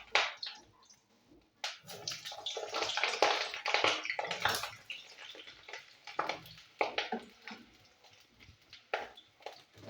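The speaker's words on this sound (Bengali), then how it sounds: "পটলগুলো আমি ভালো করে ভেজে নিই" Pointed gourd pieces frying in hot mustard oil in a wok give a close, uneven sizzle with bursts of spattering and soft clicks, swelling and fading over several seconds.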